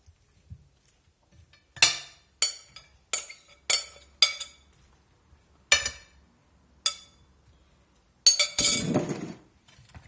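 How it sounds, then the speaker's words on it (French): Glass and ceramic clinks as potato salad is spooned into a vintage serving dish: several sharp, separate taps spaced about a second apart, close and fairly loud, ending in a longer scraping rattle with no talking. "on va mettre donc notre préparation dans le plat de service"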